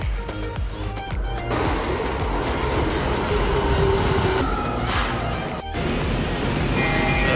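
Train station ambience at Ojima Station in Japan on the Toei Shinjuku line area, with continuous rumbling rail noise, a rolling train and scattered clatter forming a steady, fairly loud backdrop without speech.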